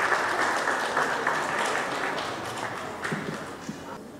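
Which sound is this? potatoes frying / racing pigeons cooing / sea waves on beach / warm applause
warm applause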